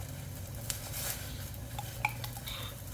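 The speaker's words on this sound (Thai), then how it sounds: "ลงไปแล้วก็ คน คนให้น้ำพริกเผากระจายค่ะ" Roasted chili paste is stirred into a pot of boiling salmon-belly tom yum, with a spoon scraping and clinking against the pot over a low simmering rumble, close and fairly quiet.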